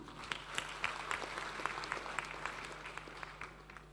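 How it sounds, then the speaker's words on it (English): An audience at a world peace forum claps in a sustained round of applause, heard somewhat distant and fairly faint, gradually tapering off toward the end. "the second big round of applause to show our gratitude and thanks"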